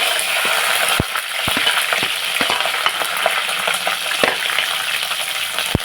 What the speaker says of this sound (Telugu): ప్యాన్ పెట్టుకుని ఆయిల్ పోసుకున్నాను ఇప్పుడు మనం ఇందులో పచ్చిమిర్చి వేసుకున్నాను